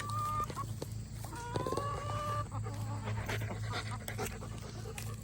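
Backyard chickens clucking and calling with short tonal squawks, close by and fairly loud, over a steady low hum in a farmyard setting.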